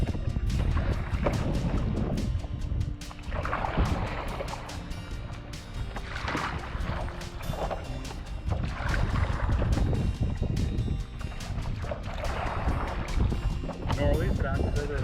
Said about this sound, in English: there's too much wind